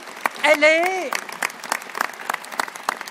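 Applause from an audience at a New Year's greetings ceremony in Sénart, France, a steady patter of many hands clapping with a brief tonal sound near the start.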